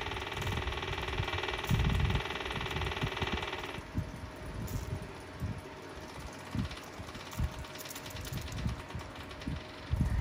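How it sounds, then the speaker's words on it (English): Electric fuel pump on a Kubota BX tractor whirring steadily while bleeding air from the fuel system, a high steady whine in the first few seconds that then drops and changes tone, with faint clanks and rustling around it. "You can almost hear the pump change tone when it finally bleeds itself"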